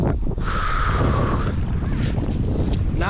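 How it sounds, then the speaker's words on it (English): Strong stormy wind while fishing from the shore, a loud steady roar buffeting the microphone throughout, with a brief whistling tone early on. "It's hard with this wind"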